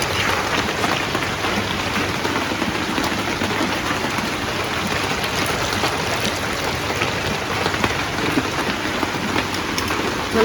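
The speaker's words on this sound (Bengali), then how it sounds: "এই দেখো আমার রান্না নাই জমতে বৃষ্টি পড়লো" Steady rain falling outside, an even, continuous hiss of drops on surfaces at moderate distance, with no voices.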